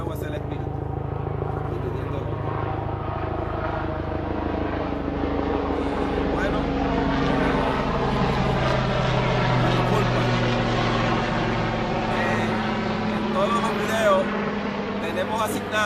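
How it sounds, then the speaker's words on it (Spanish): A helicopter drones overhead as a broad, continuous rotor and engine roar that stays loud and steady, swelling slightly, while a person speaks over it. "ya habiendo pasado el helicóptero que siempre nos mandan en los videos"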